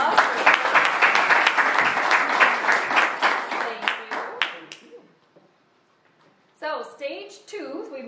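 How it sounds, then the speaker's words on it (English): An audience claps during a marriage talk, with a dense burst of applause that thins into scattered claps and fades to near silence, then a voice returns at the end. "let's give them a round of applause"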